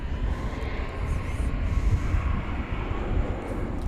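A Boeing 737 Max 8 airliner at DFW Airport at night makes a steady low engine rumble with broad roaring noise, moderately distant and sustained, without talk.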